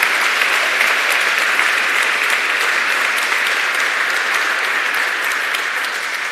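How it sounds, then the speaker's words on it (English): Gala crowd at the Justitia Award ceremony applauds award winners, a thick, continuous wash of clapping from many hands, loud and even throughout, with no speech on top. "a round of applause"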